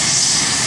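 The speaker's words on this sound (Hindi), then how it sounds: "बोला हेलीकॉप्टर यहाँ उतरा लगता है यही एयरपोर्ट है" Rescue helicopter landing, a loud steady engine and rotor roar filling a brief moment at close range, with no talking.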